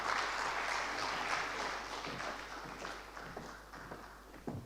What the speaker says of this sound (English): Another round of applause for Reverend Said.